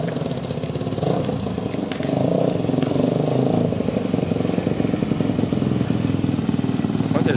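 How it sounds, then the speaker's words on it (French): A Honda 125 XLS motorcycle engine runs steadily close by, a continuous throbbing idle that picks up slightly partway through and holds a loud, even rumble with no talk over it. "je vais essayer de vous faire écouter le moteur"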